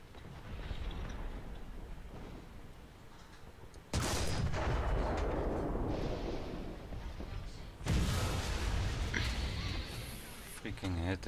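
Video game gunfire crackles through a battle over capture flags, with dense, continuous bursts and booming blasts in several loud surges as players talk over the shooting.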